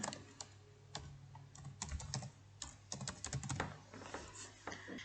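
Rapid, irregular clicking of fingers typing on a computer keyboard, close and clear, in quick bursts with short pauses and no voices.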